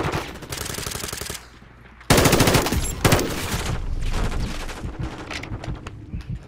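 Rapid automatic gunfire from Call of Duty: Modern Warfare II rattles in loud, close bursts, pausing briefly before resuming with dense sustained fire and scattered shots trailing off.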